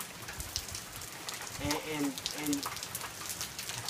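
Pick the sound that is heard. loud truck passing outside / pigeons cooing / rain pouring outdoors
rain pouring outdoors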